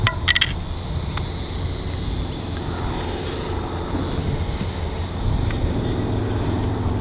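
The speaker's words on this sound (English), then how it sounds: "the wind has been so strong here, guys, it's shredded the flag" Strong wind roars steadily across an open golf practice tee in a dense, continuous low rumble, with a few faint clicks near the start.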